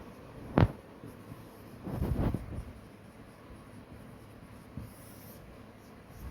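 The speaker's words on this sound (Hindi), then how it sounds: "तो नीचे लिख लेते हैं" Chalk or marker scratches across a board during a physics lesson on lens image formation, a sharp single stroke followed by a cluster of quick scribbles and one faint tap, in a quiet room.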